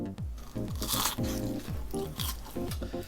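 Crispy freshly fried battered shrimp is bitten and chewed up close, several sharp crunches in an uneven rhythm with faint mouth sounds between them.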